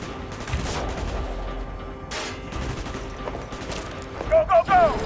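Gunfire in the video game Call of Duty Black Ops: dense bursts of shots and mechanical clatter run steadily throughout, with a few louder bursts near the end over a busy battle background.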